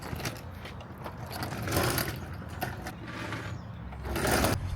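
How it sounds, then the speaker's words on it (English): An impact wrench with a 21mm socket removes lug nuts on a 2010 Toyota Prius during rear wheel hub work, giving a continuous close, loud mechanical rattling and ratcheting that swells in a few bursts. "Grab your impact wrench in a 21mm socket and remove the lug nuts"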